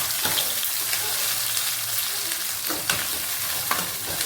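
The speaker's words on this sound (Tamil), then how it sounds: "இது எல்லாத்தையும் ஒன்றா போட்டுருவோம். எல்லாம் வதங்கட்டும். நல்லா ஒரு கிண்டிடுவோம்." Onions, tomatoes, potatoes and green chillies sauté together in a pan for chicken gravy, a steady close sizzle with scraping stirs of a spoon at irregular intervals.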